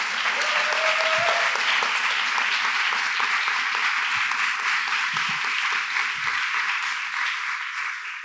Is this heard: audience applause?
yes